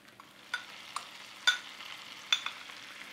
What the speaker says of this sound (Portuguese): Vou começar por juntar a manteiga.